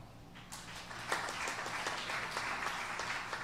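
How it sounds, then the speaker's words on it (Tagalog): Congregation at a church preaching service claps together, building from quiet to a dense, even round of applause that holds steady at moderate distance. "Palakpak."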